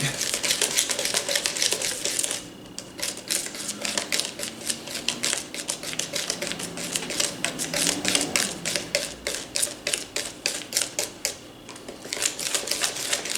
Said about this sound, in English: We're gonna use our trusty whisk, of course, and mix it all up.